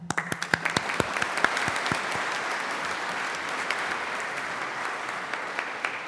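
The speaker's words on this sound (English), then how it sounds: "A round of applause for the academic and support staff of the faculty who worked tirelessly for your" An audience applauds academic and support staff of a faculty at a graduation ceremony, with steady crowd clapping that starts with a few loud, distinct claps and settles into a sustained, even roar of many hands.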